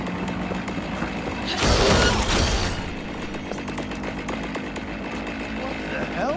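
Chainsword from Cyberpunk 2077, a loud, harsh chainsaw burst lasting about a second, with grinding mechanical noise around it and people talking over the action.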